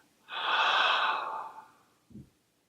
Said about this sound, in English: a very big deep breath, deep diaphragmatic breath. And exhale out of your mouth